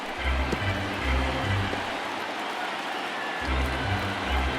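A large crowd roars and cheers at a downtown San Diego baseball stadium during a postseason game, a dense, steady wash of noise that carries through, with low rhythmic thumps in some stretches.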